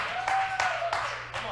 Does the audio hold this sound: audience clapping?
yes